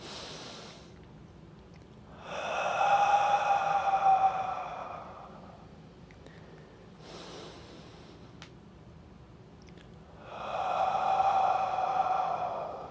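Slow breathing in and out during a golf mobility exercise: two long, audible breaths spaced several seconds apart, close and steady, with quiet pauses between them.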